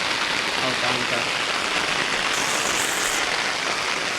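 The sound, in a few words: heavy rain on paddy fields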